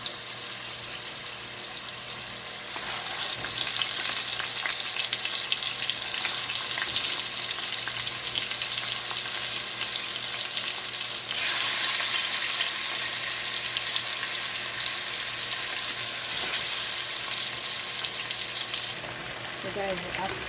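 Oxtail browning in hot oil for Jamaican-style curry oxtail, a loud, dense sizzle that swells as pieces go in and stays strong throughout, with a faint watery hiss in places.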